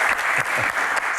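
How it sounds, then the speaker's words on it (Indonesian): Dense, steady applause from a talk-show studio audience, loud and continuous through the brief moment. "tepuk tangan sekali lagi"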